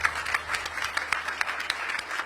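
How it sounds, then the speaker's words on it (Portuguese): Applause from an audience at a Brazilian government ceremony, a scattered patter of clapping heard at moderate distance and fairly faint, with individual claps popping out of the steady wash. "Peço a salva de palmas, ela merece."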